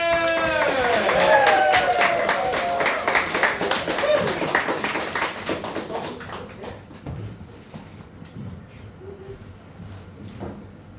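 An audience at Queens Doncaster claps and cheers as a comedian is welcomed on stage, loud applause at first that thins and fades out over the clip, with a voice heard over it.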